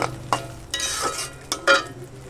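Masala for a loitta fish curry is stirred and fried in a pan, with a steady sizzle broken by several scraping strokes of a spatula against the metal, close and clear with no talking.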